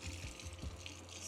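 Warm tap water runs steadily into a bowl for white bread dough, a continuous close splashing rush with small low gurgles, alone without talk.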